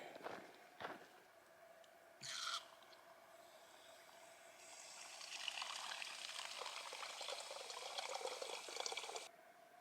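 Water pours steadily in a broad hissing stream for several seconds from a trail water source on the Pacific Crest Trail, preceded by a couple of brief splashes and rustles, moderately close in a quiet outdoor setting.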